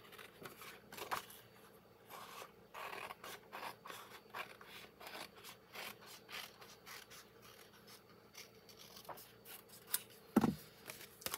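Paper trimming for a pop-out Z-fold card brings soft, scattered cutting and rubbing sounds, quiet and close, with a sharper snip near the end.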